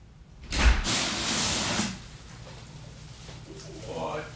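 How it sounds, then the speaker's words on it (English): An indoor door is pushed shut with a single close thud and a brief rushing sweep, followed by a quiet room with faint background sounds. "Let me close this door."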